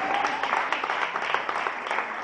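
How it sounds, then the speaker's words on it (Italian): An audience at a San Marziale festival magic show applauds steadily for a couple of seconds, with dense clapping from a crowd fairly close by and a voice mixed in underneath. "Un bel applauso anche del pubblico"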